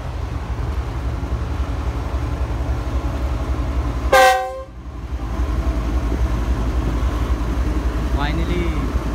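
A steady low rumble of the Sir Syed Express passenger train departing Dhabeji station runs throughout, with a short, loud horn blast midway and a fainter tone shortly after.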